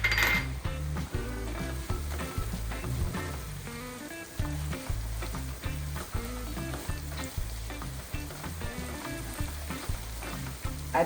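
Green chilies sizzling in a pan of spiced oil for a homestyle Peshawari chicken, a constant bright crackle beneath rhythmic, repeated utensil scrapes and light clinks, close and without any talk.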